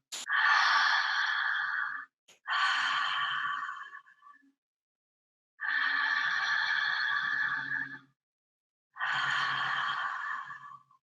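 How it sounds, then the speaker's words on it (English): Four long, deep breaths during a breathwork exercise, each a loud, close airy rush lasting about two seconds, separated by short silent pauses. "So here we go, 7 deep breaths."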